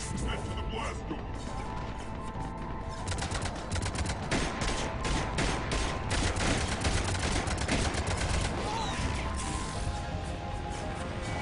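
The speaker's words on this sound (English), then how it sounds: "Cannons engaged." Cannons fire during a battle on Omega in Mass Effect played on Insanity difficulty, a dense, loud barrage of rapid blasts and crashes that continues without pause, with faint voices mixed in.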